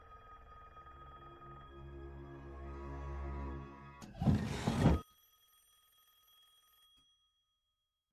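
A telephone bell rings in a sustained burst from an empty house across the street, followed by a sharp clattering crash and a fading ring afterward.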